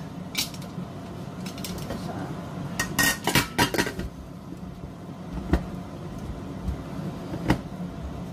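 Metal utensils clink and scrape against a pot while stirring vegetables in a quiet kitchen, with a few sharper knocks and clatters scattered through.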